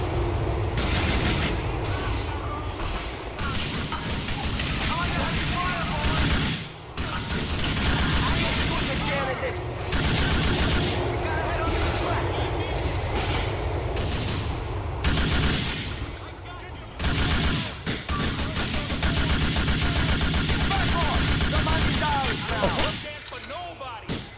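Sustained bursts of gunfire in Grand Theft Auto IV, rapid volleys and machine-gun fire that keep going with brief gaps, loud and dense, with talking over the top.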